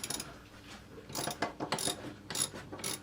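Ratchet wrench clicking in quick bursts as 10mm bolts holding the seat brackets are broken free inside a 1998 Honda CR-V, close and fairly loud with short pauses between runs of clicks.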